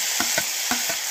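Vegetables with chopped green chilies are stir-fried in a pan over a medium flame. A steady loud sizzle runs throughout, broken by a few quick, rhythmic stirring scrapes close by, with no voices.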